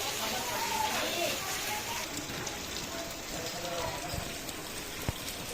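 Heavy rain pours steadily in a village setting, a dense constant hiss of drops on surfaces, with a couple of sharp knocks near the end.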